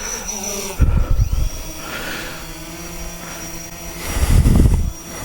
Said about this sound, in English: We want the Typhoon H to go up in the air, so I'm going to push it right to the top.